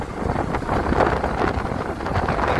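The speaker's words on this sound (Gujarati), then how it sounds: "પવન જોરદાર હે" Strong wind gusts roar steadily across a microphone outdoors on a hiking route, a loud, continuous buffeting rush with no pauses.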